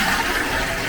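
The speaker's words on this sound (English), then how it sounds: "flush the toilet" A toilet in an ensuite flushes on mains pressure, a loud, full rush of water that carries on unbroken for the whole short moment.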